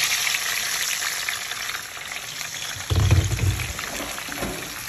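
Food fries in a pan with a steady crackling sizzle. Partway through, a louder burst of spitting and stirring rises, then settles back to an even fry.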